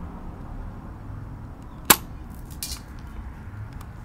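A KWC Sig Sauer P226 airsoft spring pistol loaded with several BBs fires a single sharp, snappy shot, followed moments later by faint scattered pattering, against a quiet background.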